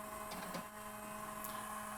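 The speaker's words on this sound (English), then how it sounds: "We're going to go ahead and power on our printer." A DTF Station Prestige A4 direct-to-film printer starting up, giving a steady, close mechanical hum with sustained tones and a few brief clicks and whirs, with no talking.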